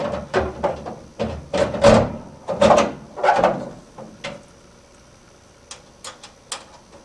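Door being refitted onto a hardmount trunnion assembly in a workshop, giving a series of close metallic clunks, knocks and rattles in irregular bursts, then a few sparser sharp taps after a quieter pause.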